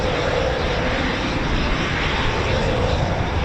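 A Eurofighter Typhoon FGR4 jet flies nearby, its engines giving a loud, steady broadband roar that fills the whole short stretch without easing.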